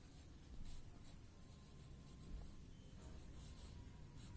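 Pen or marker scratching steadily across paper or a board while the word rectangle is written during a general knowledge lesson, a continuous soft rubbing texture with slight surges, close and alone with no talking.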